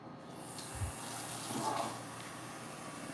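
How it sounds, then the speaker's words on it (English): Water runs steadily from a tap, a soft continuous hiss and splash lasting a few seconds, with a small knock near the start. "Daddy's gonna put more water"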